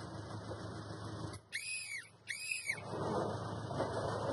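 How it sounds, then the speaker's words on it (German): A circus worker blowing a whistle, two loud close trilling blasts in quick succession, with background noise before and after. "Pfeifen."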